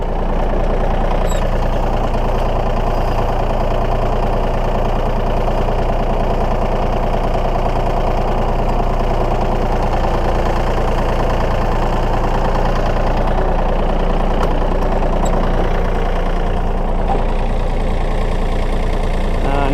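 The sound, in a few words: tractor engine running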